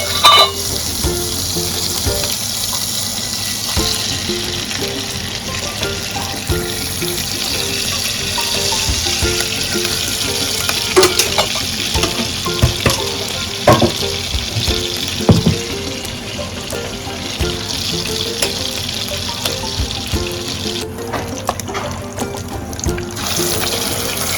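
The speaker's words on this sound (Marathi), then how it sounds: "त्याच कढईमध्ये जरा थोडंसं तेल घालूया." Oil and spices sizzle in a pan while a Maharashtrian-style prawn curry cooks, giving a steady hiss with scattered crackles and clinks of utensils throughout.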